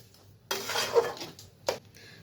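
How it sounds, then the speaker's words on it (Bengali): A spoon scrapes and clatters against a pan while coconut and sugar are stirred for sondesh, two short bursts of metallic scraping, close and fairly quiet. "তো ভালোভাবে নেড়ে চেড়ে নিই, আর সিম জাল করে করতে হবে, নাহলে লেগে যাবে।"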